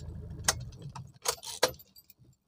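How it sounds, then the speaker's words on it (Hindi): A car key jangles on its ring and clicks into the ignition inside a car, a few close metallic rattles and taps, fairly quiet, with no one speaking. "इस तरह से एग्जीशन में चाबी लगाते हैं"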